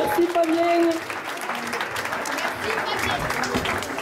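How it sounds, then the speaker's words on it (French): Audience applause after a benefit concert, a dense wash of clapping that swells at the start and then carries on steadily, with voices and some cheering over it. "Donc on peut les applaudir aussi."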